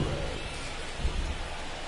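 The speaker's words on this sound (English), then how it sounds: "It feels like we might be headed towards a rain delay if the weather doesn't ease up, Chris" Steady rain falls in MLB The Show 23 during a Padres–Mets baseball game, a constant soft wash of drops with a faint low rumble underneath, no talking.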